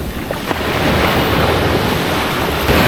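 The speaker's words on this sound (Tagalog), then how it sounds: "Tapos medyo malakas din yung alon eh." Steady, loud surf rolling onto the white sand beach at Dinadiawan, Dipaculao, Aurora, Philippines, a continuous rushing wash of breaking waves with some wind buffeting the microphone.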